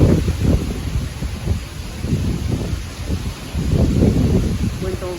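Strong tornado wind gusts roar continuously across a backyard in New York, a heavy low rumble buffeting the microphone with rustling surges, loud and close throughout.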